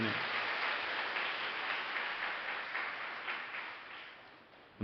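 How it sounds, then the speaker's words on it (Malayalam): A church congregation applauds together during a Holy Mass, a dense, steady wash of clapping that holds at an even level throughout before a brief louder burst at the very end. "നല്ല ഒരു കയ്യടി കൊടുത്ത്"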